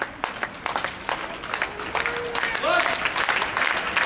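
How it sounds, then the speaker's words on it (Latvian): Audience applause for dancers at a Latvian DanceSport Federation ranking competition, Latin cha-cha-cha and rumba final: dense, steady clapping fills the hall throughout, with a few cheers and whistles rising over it midway. "tāpēc pavadīsim aplausiem"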